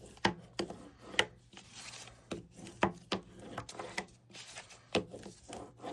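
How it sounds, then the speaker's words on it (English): A burnishing tool pressed firmly over score tape on paper while making a card organizer box, giving a series of sharp close rubbing and tapping strokes in an irregular rhythm, with a faint low hum underneath. "I'm going to take my burnishing tool and firmly press that down."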